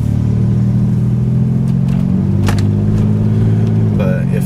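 Supercharged 2001 Toyota 4Runner with a Dynomax VT muffler, its engine revved toward wide open throttle, giving a loud, steady droning rumble with rising tone throughout, heard close up.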